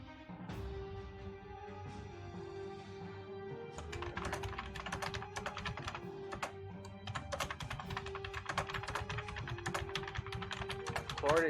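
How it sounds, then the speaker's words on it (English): Rapid clacking keystrokes on a computer keyboard run steadily in quick bursts, faint and close-miked, beneath a tonal musical drone during a tabletop role-playing game session. "if that's you typing, we can hear you"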